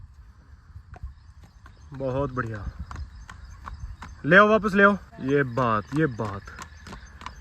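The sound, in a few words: Marwari mare's hooves clip-clopping as she is walked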